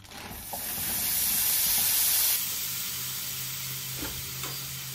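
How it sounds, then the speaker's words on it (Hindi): Shrimp already coated in butter and garlic frying in a pan, giving a steady sizzling hiss that swells early and then settles into a softer, continuous crackle with a few faint stirring clicks. "सबसे पहले हमें हमारे जो झींगे हैं उनको ले लेना है और उनको पैन के अंदर डाल देना है।"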